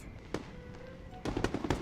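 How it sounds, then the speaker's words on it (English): Fireworks going off in the video game Infinity Nikki: one sharp burst, then a cluster of three or four quick pops close together, fairly loud over a quiet background. "That's definitely fireworks."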